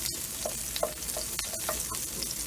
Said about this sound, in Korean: 이렇게 볶은 다음에 어느 정도 살짝 투명해지면